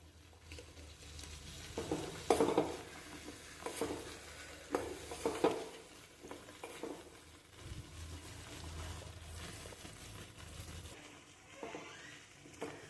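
A spoon stirring a foaming onion and fenugreek hair remedy in a metal pan, quiet scraping and patter with soft bubbling and a few clinks, no talking.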